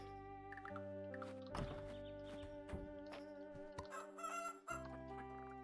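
Chickens on a farm in the video game Fields of Mistria, with a rooster-like crow and clucks rising over steady layered game music, close and moderately loud throughout.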